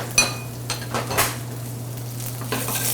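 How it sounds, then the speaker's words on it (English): Squash sautéing in a little oil in a pan, with a soft sizzle under a low steady hum, punctuated by a few sharp clinks and scrapes of a utensil against the pan. "So we're gonna come over here and start sauteing. A little bit of oil."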